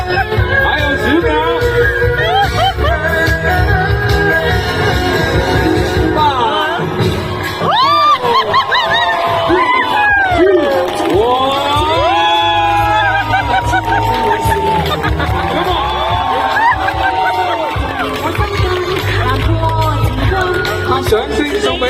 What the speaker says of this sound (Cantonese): 掌聲送俾兩位